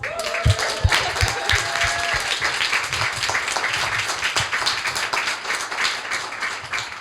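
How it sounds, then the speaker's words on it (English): A round of applause from the audience at a startup lunch-and-learn talk on media relations, steady dense clapping that carries on evenly for several seconds, with a few sharper claps near the start. "Let's give Maria a round of applause"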